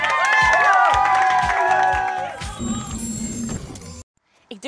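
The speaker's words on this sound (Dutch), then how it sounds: "Geef er nog een applaus, jongens" Audience on a Dutch media quiz show cheering and clapping, with whoops and shouted voices over loud applause for a few seconds, then fading into a quieter stretch before cutting to near silence.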